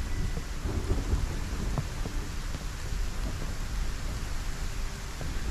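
Thunderstorm weather in a procedurally generated, Minecraft-style open-world survival sandbox game: steady rain hiss with low rolling thunder throughout, moderately loud, no voices.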